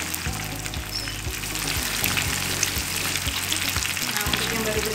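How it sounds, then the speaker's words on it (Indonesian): Catfish pieces fry in hot oil for pecel lele, a dense continuous sizzle with bursts of bubbling and soft periodic clatter, close and steady throughout. "Nah ini gorengnya harus banget dengan minyak yang panas ya"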